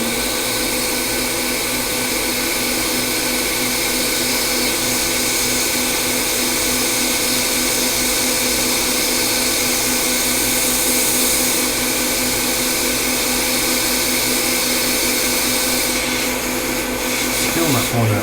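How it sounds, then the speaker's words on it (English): Hot air gun blowing on a MacBook Pro logic board: a continuous loud whooshing fan drone with a steady whine, unchanging for the whole stretch, easing off only briefly near the end. "get the hot air gun, and add heat to it."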